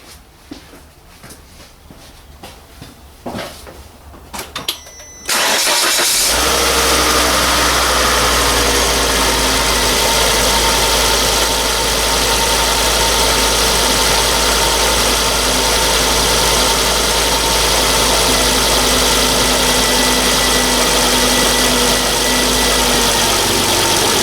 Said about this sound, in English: just get the car started.